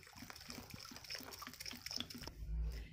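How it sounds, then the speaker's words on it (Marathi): Clean water splashes into a vessel of jowar grain set out for soaking, a soft, faint trickling pour heard alone at close range. "आता यामध्ये मी स्वच्छ पाणी घालतीये आणि ही ज्वारी आपण 3 दिवस भिजवूया"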